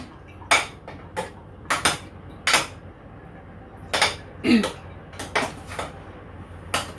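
A spoon mixes mango chunks into a homemade mango ice cream mixture. About a dozen sharp, close clinks and scrapes against the bowl come in irregular bursts, with quiet gaps between them and no talking.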